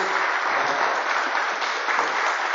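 A church congregation applauds in welcome, a steady, even wash of many hands clapping together with no voices over it.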